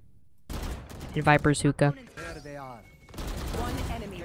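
Gunfire in Valorant punches through a wall as a wall bang: a quick burst of four or five loud rapid shots, with a player talking just before and after.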